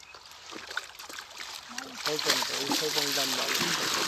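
Water splashing and trickling into a bucket at a riverside fishing spot, a soft continuous pour that grows fuller as it goes, with voices talking over it.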